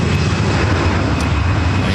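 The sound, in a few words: Lufthansa Airbus A340-300 jet on short final at LAX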